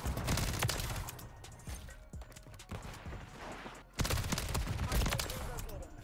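Dense gunfire in Modern Warfare 3 multiplayer, a new SMG among the weapons, with rapid bursts of shots rattling almost continuously, briefly thinning around the middle before resuming loud and close.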